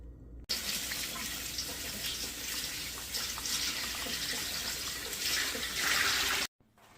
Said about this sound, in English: And then we're going to fill this full of warm water.